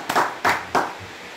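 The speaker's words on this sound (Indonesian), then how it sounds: "Tepuk tangan buat Tuhan." A congregation at a healing prayer gathering claps hands in three sharp, evenly spaced beats, close and clear, then falls quiet.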